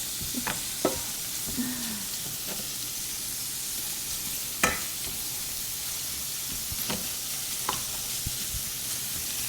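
A spoon stirs grits in a pot over steady low sizzling, with scattered scrapes and clinks at irregular intervals and a soft curving squeak early on; no one talks.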